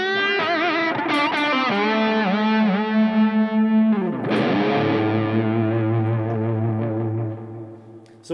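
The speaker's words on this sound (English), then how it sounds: "really abuse his whammy bar with dive bombs and wild stuff" A distorted electric guitar plays a bluesy phrase with whammy bar bends, then plunges into a deep dive bomb that sinks low and sustains, loud and alone.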